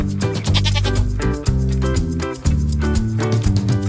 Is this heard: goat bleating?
yes